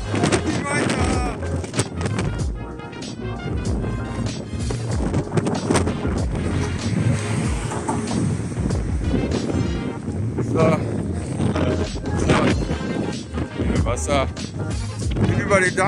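Strong gusty wind buffets the microphone throughout, a constant low roar with someone speaking over it, outdoors by a dam in Holland.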